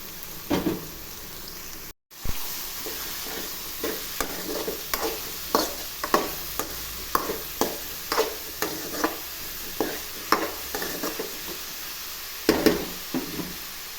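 Ridge gourd pieces stir-fried with onions in a pan at home, a constant sizzle cut by a regular series of spatula scrapes and taps, close and fairly loud, with a brief dropout near the start.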